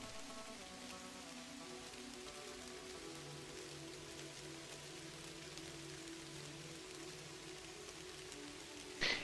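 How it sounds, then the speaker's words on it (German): Rain pours steadily in the video game Kathy Rain, a soft continuous hiss under quiet background music, ending with a brief louder click; no talking. "Und natürlich regnet es jetzt auch hier."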